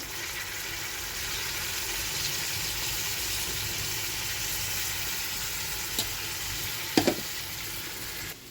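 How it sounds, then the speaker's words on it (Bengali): Eggplant and vegetables fry in a pan with a steady, close hiss of sizzling oil throughout, a couple of brief clinks near the end, and no voices. "এদিকে তো বেগুন ভাজা হচ্ছে"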